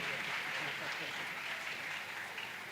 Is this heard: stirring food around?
no